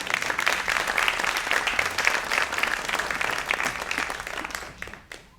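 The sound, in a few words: applause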